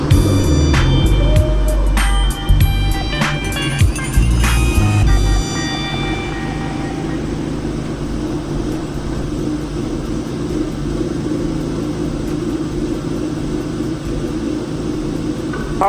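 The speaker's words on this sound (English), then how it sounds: "Car is running rough and I forgot I have an air leak right here, a vacuum leak right here." A rebuilt 700 hp Infiniti G37 engine cranks and catches with harsh clattering bursts, then settles into a loud, steady, rough-running drone with a vacuum leak.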